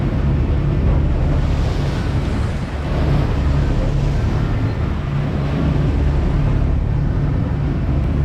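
Boat motoring out of a marina before sunrise in brisk wind, a loud, steady rush of wind and water with low engine rumble running throughout, no voices.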